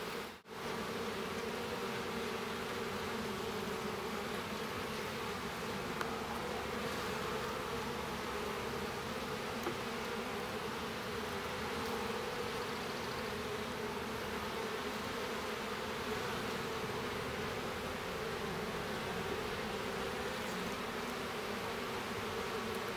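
Honey bees buzz steadily around an open hive frame during a winter inspection, a dense, continuous close-up drone with no talking.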